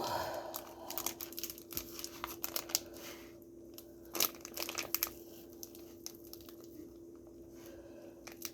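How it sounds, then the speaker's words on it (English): Food packaging handled and crinkled in a kitchen while cooking sausage and bacon, giving scattered soft crackles and rustles, close and fairly quiet, with a steady hum underneath and no talking. "this packaging here will cooperate with me"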